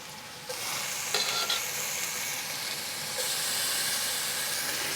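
Garlic and red pepper flakes hit a hot pan and sizzle loudly, a steady bright hiss that swells again near the end, close and without talk.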